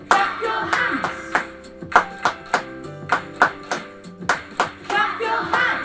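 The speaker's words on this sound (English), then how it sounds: "just clap your hands on the pulse" Children in a Year 3 and 4 music lesson clapping their hands on the pulse, sharp claps in a steady beat at moderate tempo, with a sung melody over the rhythm.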